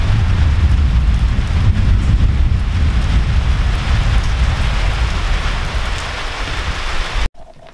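Steady rain falling outdoors off a deck at the start of a winter storm, near 40 degrees; a loud, dense, continuous patter on surfaces with a low rumbling wash underneath, running without a break until a sudden cut at the end.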